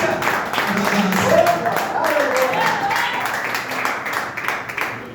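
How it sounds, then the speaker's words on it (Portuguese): A church congregation applauds during a Sunday service, broadband clapping running steadily for about five seconds, with some voices and crowd murmur mixed in. "Aplaude o nome do Senhor mais uma vez"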